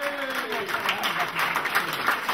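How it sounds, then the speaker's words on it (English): Brief, moderately loud burst of audience clapping at a community hero awards ceremony during a local festival, dense and steady throughout with a voice faintly over the start. "Give them a big round of applause."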